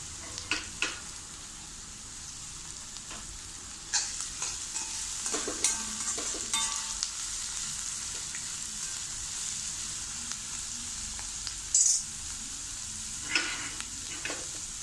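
Raw mango and hibiscus flowers sizzle softly in a pan, with scattered scraping stirs and occasional clinks over a steady frying hiss.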